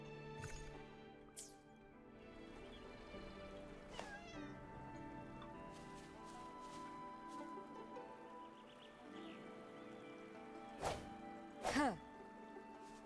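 Two cats in the video game Wuthering Waves meow over steady, layered game music, with a few soft calls early on and a louder cluster of rising meows near the end.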